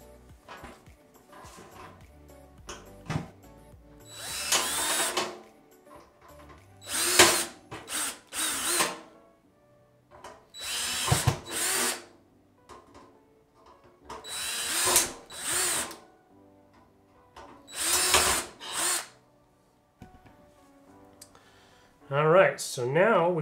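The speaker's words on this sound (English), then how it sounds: "three down here at the bottom that we can go ahead and remove right now with our 3/16 bit" A power drill with a 3/16 bit drills out rivets on a Dell OptiPlex computer chassis in five or six loud, close bursts separated by pauses, ending with a short mechanical rattle.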